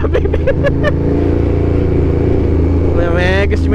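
Steady engine drone of a KTM Superduke 1290R motorcycle idling in road traffic, a continuous low rumble with a brief rising rev near the end; voices talk over it at the start.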